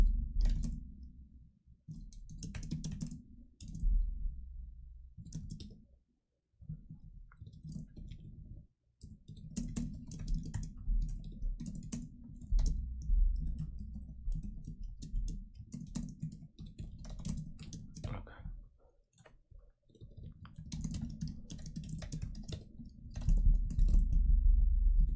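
Someone types on a computer keyboard in quick, irregular bursts of soft clicks, with short pauses between runs. The clicks sound close and moderately quiet.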